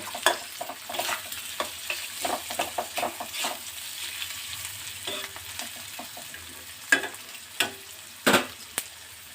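A spatula stirs a potato and banana-flower chop mixture in a pan, giving repeated scraping strokes with light frying sizzle underneath, close and moderately loud, several sharper clacks near the end.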